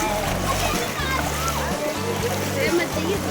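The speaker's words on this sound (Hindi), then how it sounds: "और यहाँ पर है एक बहता हुआ पानी जो कि पहाड़ों से आ रहा है।" A hill-fed stream of flowing water at the ruins of Bhangarh fort in Rajasthan, splashing and babbling close by under the voices of people talking over it.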